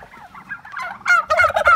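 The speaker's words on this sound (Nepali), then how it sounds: "यो पनि टर्की नै हो हजुर सब टर्की नै" Turkeys on a mixed farm gobbling nearby, a rapid warbling burst followed by two more loud gobbles in quick succession, clear and close.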